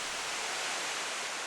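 An artificial waterfall at the entrance of a reservoir museum, a steady broadband rush of falling water heard up close, continuous and even with no voices.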